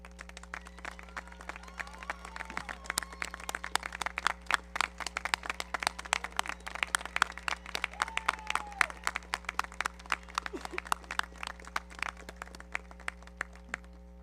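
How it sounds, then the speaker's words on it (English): Sustained applause from a large audience honouring graduates' families and guests at a 2026 commencement ceremony, dense steady clapping throughout with a few louder individual claps and scattered faint voices. "let's keep that applause going a little longer for all the mothers present"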